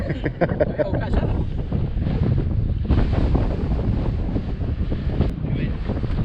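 Steady, loud wind buffeting the microphone throughout near Batea Mahuida volcano, Villa Pehuenia, a continuous rumbling roar with gusts and faint surf-like wash behind it.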